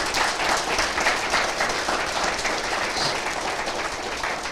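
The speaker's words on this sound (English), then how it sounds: "let's give the Collins family a big round of applause." Sustained crowd applause at a building dedication ceremony, dense and steady throughout with no pauses or talk over it.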